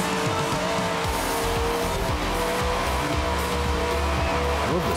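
A car drifts in the Forza Horizon 4 racing game, its loud engine roar continuous while tires squeal and skid with shifting pitch throughout.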